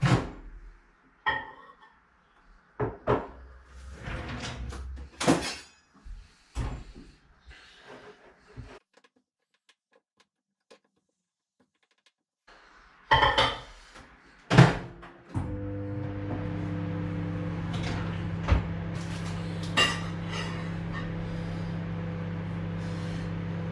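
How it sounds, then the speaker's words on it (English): A microwave oven door closes with a few dull thuds and knocks among kitchen handling, then after a quiet pause the oven starts and runs with a steady, loud electric hum that continues to the end. "So it might be a little bit loud now. I've got the microwave on."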